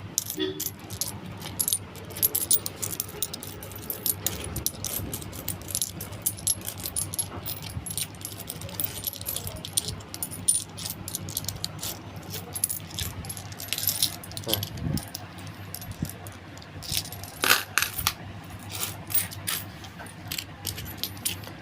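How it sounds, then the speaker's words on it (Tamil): Metal coins, including Indian rupee pieces, clink and jingle as a hand sorts and picks through a pile, with rapid irregular clatter continuing close by throughout and no talk. "இப்போ ₹5 காயின் இன்னும் கொஞ்சம் கொஞ்சமாக பொறுக்கணும்."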